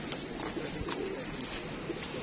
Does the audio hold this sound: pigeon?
yes